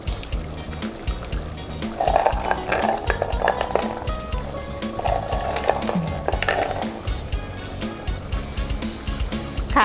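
Pea eggplants tipped into a pan of frying pork panang curry and stirred, a continuous close sizzle with scraping, clattering spatula strokes throughout.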